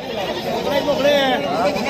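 A goat bleats amid the crowd at a goat and sheep market in Sangola, a short wavering cry rising over nearby people talking.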